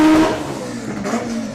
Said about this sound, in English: Simon Crowley coming underneath the tower with the VW Golf